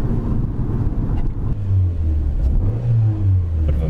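A Mitsubishi Lancer engine misfiring while driving and running low on fuel gives a steady low rumble with uneven, faltering pulses, close and loud with no talking.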